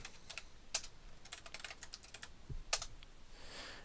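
Someone typing on a computer keyboard to log in to a Linux server, producing soft, irregular clicks in quick bursts with a couple of sharper key hits. Quiet and close, with no talking.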